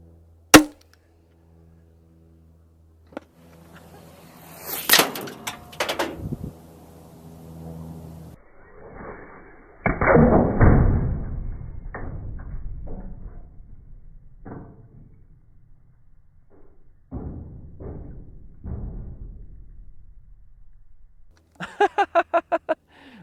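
A 40 mm practice grenade launched with a sharp pop, followed by distant thuds as it strikes and skips across the ground, with quieter rustling and a final burst of rapid clicks.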